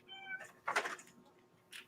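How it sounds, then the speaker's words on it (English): A cat meows close by indoors, one drawn-out meow followed by a brighter second cry, both fairly soft, ending with a brief faint chirp. "What do you want, kitty cat?"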